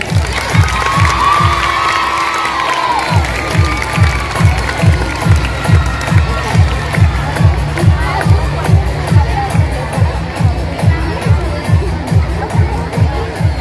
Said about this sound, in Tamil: மாணவிகள் கைத்தட்டி உற்சாகப்படுத்தவும்.